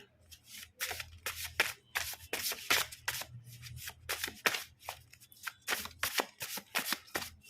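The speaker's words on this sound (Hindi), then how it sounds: "लास्ट बार हम शफल कर रहे हैं" Tarot cards are shuffled close up in repeated quick riffling bursts, a crisp papery flutter coming in rapid bursts with short gaps between them.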